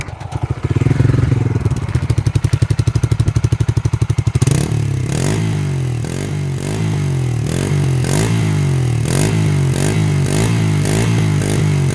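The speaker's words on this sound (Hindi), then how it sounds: "अब पेट्रोल मोड में साउंड सुनेंगे अपन इसका।" Bajaj Freedom 125 CNG motorcycle, base model, idling and revving in petrol mode: a loud, steady single-cylinder thrum with rapid ticking pulses, a brief rev in the opening seconds, then a settled idle with rhythmic bursts throughout.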